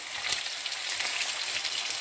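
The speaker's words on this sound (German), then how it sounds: "So, das Fleisch brutzeln wir jetzt auch an." Beef searing in a hot pan gives off a dense, steady sizzle and crackle that holds an even level throughout, close up, with no voices over it.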